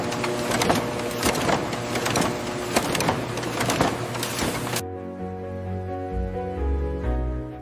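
A banknote printing press runs off US dollar notes from engraved steel plates, giving a dense, steady mechanical clatter with rapid rhythmic thumps that stops abruptly partway through, leaving a lower rumbling machine hum.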